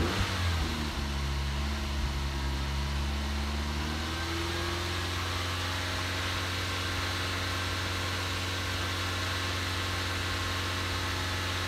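A 2005 Skoda Octavia 1.8T 20V VRS with a lean-running bad idle fault revs up from idle, its engine note climbing and then holding a steady, loud, close drone with no talking.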